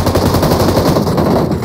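Rapid automatic gunfire from an M2 in the mobile battle royale PUBG Mobile, a loud, continuous burst of shots filling the whole moment without any voices.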